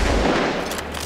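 Headshot gunfire in the shooter game Medal of Honor: Warfighter, a single loud, close blast that quickly fades into a rumbling tail.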